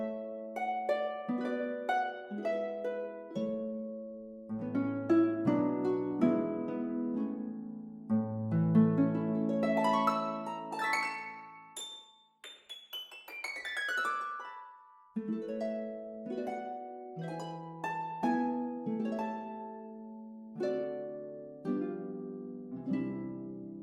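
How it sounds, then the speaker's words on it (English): Concert harp from the CineHarps orchestral sample library plays plucked arpeggios and chords, with a sweeping upward run and ringing high notes midway before the patterned plucking resumes, soft and resonant throughout. "So the concert harp sounds like this."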